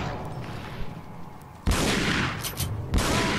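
In Resident Evil 4 Separate Ways, a shotgun fires two loud, abrupt blasts about a second apart, each cutting sharply through a low background of game ambience.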